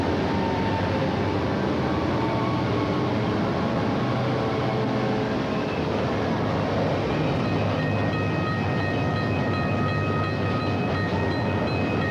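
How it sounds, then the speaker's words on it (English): A passing train rumbles loudly and steadily for over twelve seconds, a broad continuous roar with a high tonal whine emerging toward the end, no voices over it. "And here comes a train, so watch out."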